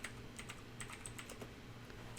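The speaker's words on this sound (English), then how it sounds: "So, Trevor, you doing some typing? Some single finger typing over there?" Keyboard typing close by, a steady stream of light clicky keystrokes with uneven rhythm, faint and alone with no talking.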